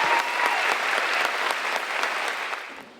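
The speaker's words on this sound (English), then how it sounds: "provide a warm, and to use the language of this school year, in-person thank you and applause to our chorus students" Dense applause from an audience at an indoor high school graduation ceremony, honoring chorus students: a steady wash of many hands clapping that fades out at the end.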